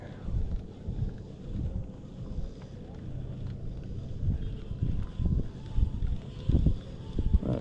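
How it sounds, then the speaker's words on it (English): Wind blowing across a dock on open water, a steady low rumble of buffeting gusts against the microphone that swells and surges unevenly throughout, with no talking. "we got a wind blowing us a little bit now"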